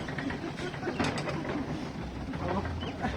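A hand-turned jute mill machine clatters with ratcheting, gear-like mechanical clicks and rattles, close and continuous, with a brief burst of heavier knocking partway through.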